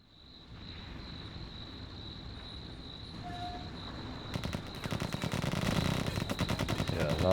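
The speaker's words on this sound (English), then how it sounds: "Yeah, a lot of machine gun fire." Machine-gun fire in the WWII strategy game Combat Mission: Barbarossa to Berlin, building from a quiet background with a steady whine into dense, rapid rattling bursts over the last few seconds, moderately loud.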